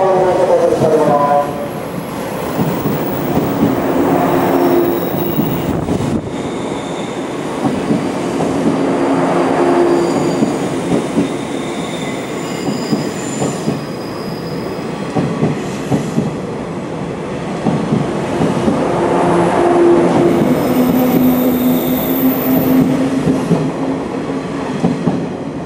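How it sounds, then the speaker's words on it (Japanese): A 185 series train passes through Shibuya Station without stopping, with a loud, steady rumble and rhythmic wheel clatter, its faint squeals and tones rising and fading over a long pass. "電車が通過いたします。"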